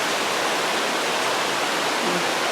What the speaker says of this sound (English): we're getting our daily rain shower